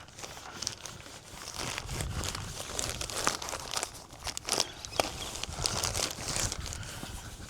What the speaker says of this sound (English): Just tucking the insulation up out of the way, just to give us a nice clean area to work with